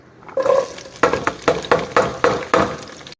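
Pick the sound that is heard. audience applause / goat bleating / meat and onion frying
meat and onion frying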